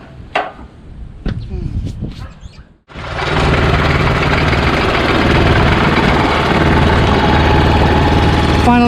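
A Honda HS520 single-stage snowblower's 5 HP engine starts after a few seconds of scattered handling noises, then idles loudly and steadily with a constant chugging drone, close by and with no talk over it.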